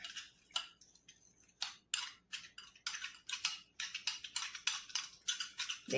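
A face pack paste being mixed with rose water in a bowl, with a quick run of light ticking, clinking taps as a spoon scrapes and knocks against the sides. The taps are close and fairly soft, with no talking.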